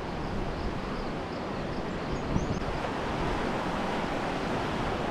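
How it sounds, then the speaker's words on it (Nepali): A small mountain stream, the Maiya Khola, rushes with a constant, dense broadband roar, loud and close with no pauses, mixed with some wind buffeting. "यहाँ चाहिँ सानो खोला मैया खोला"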